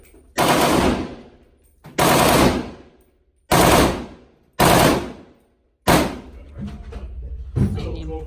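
12 gauge Remington shotgun firing five loud, sharp blasts spaced roughly a second apart, each with a short decaying echo, followed by quieter handling noise.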